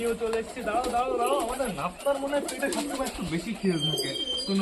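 High-flyer pigeons in a loft cooing in soft, repeated low warbles, with a voice talking over the birds throughout.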